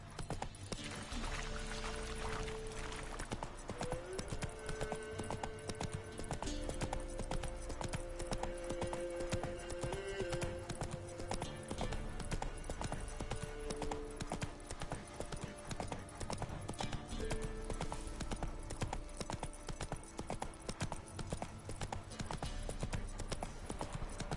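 The horse Roach trots in The Witcher 3 game, a steady rhythmic clip-clop of hooves at close range throughout, with a few tonal game sounds over it and no talk.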